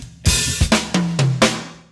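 Drum kit playing one measure of a song, with several sharp, loud hits spaced across two seconds, each ringing out with cymbal wash and tom tones before the next.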